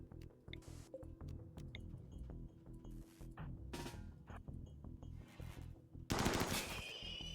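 RimWorld turrets and colonist guns firing on an incoming bug wave, bursts of rapid gunfire and impacts over a steady low game background hum, with a loud dense burst near the end.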